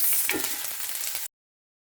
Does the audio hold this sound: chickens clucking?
no